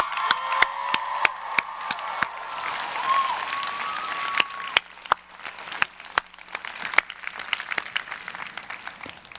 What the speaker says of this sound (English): Members of the class of 2015, let's give your family and friends a great round of applause.